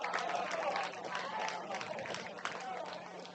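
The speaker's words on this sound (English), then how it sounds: "Groans from the home supporters, claps from the Sioux Falls East supporters." Crowd reaction at a high school state tournament baseball game, Sioux Falls East against Rapid City Post 2: a broad murmur of home-fan groans mixed with scattered clapping from visiting supporters, heard at a distance beneath a play-by-play announcer's voice.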